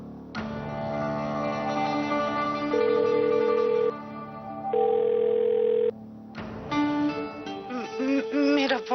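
A phone call rings out on a mobile phone as a steady electronic ringing tone with repeating tonal bursts and brief gaps, loud and close, with no talking over it.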